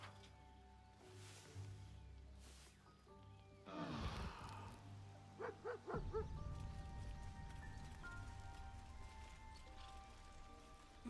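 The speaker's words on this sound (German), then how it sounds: "Oh, das ist der Hund." Dog barking in Baldur's Gate 3: a rough burst near the middle, then a quick run of short barks over a droning game soundtrack.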